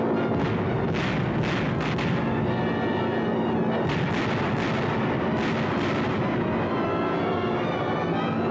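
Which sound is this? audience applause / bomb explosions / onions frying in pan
bomb explosions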